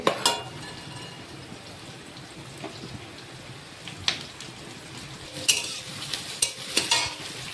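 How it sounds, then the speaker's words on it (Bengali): Potatoes being stir-fried in a pan, a soft continuous fry under scattered scraping and clinking of a spatula against the pan, with a few sharper stirring clatters toward the end; no talking. "আলুটাও দিয়ে দিচ্ছি, একসাথে দুটোই ফ্রাই হয়ে যাবে।"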